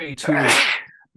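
A single sharp sneeze bursts out amid a tabletop role-playing game session, preceded and followed by brief speech.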